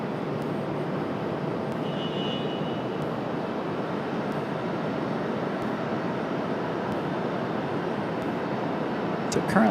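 Heavy cargo jets landing at Raleigh-Durham airport give a steady, distant broadband roar of aircraft engines that holds evenly throughout, with a faint higher whine early on.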